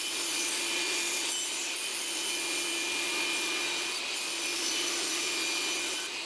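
A saw runs steadily through wood, cutting 45-degree miters for a ticket shadowbox, the close, continuous whine holding even and loud from start to finish.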